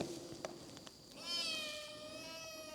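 A cat meows once, long and drawn-out, clear and fairly close, after some faint shuffling sounds in a quiet room of a large mansion on the slopes of Bromo.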